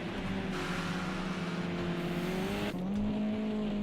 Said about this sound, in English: Interesting when you listen to Jameson's engine, it always seems very high revving